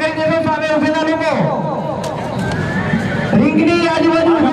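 A horse neighs loudly at a horse show ring during a colt category event, its whinnies rising and falling repeatedly across the clip while someone talks steadily over it.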